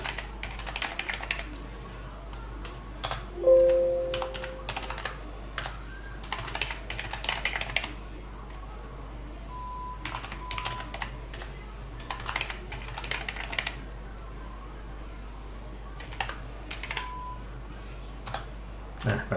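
Rapid clicking keystrokes on a computer keyboard come in irregular bursts with short pauses, close and fairly quiet against a faint steady hum, with no speech.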